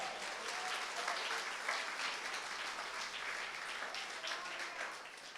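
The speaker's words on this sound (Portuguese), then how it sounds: "Quem recebe, dá um aplauso a Jesus bem forte." Church congregation applauding strongly for several seconds, a dense, steady wash of clapping from many people, fairly distant and even throughout.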